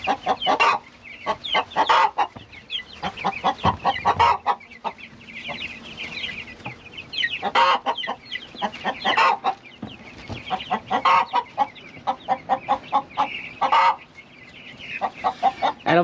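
Hens cluck and squawk close by, in busy irregular bursts with brief pauses, loud and continuous.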